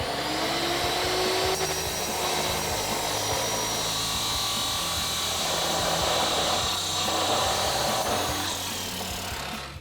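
Steady, loud power-tool whine of an MBRP Armor Lite exhaust pipe for a Silverado 2500 being cut down to length, running continuously and close throughout with a grinding, rasping texture.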